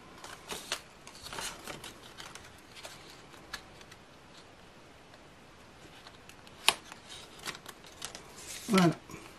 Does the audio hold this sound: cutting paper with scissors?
yes